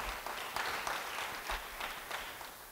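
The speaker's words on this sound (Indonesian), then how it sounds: "Yang mau beri tepuk tangan bagi dia." Congregation applause during a church sermon, a dense, steady wash of many hands clapping with a few louder bursts, moderately distant and alone without talk.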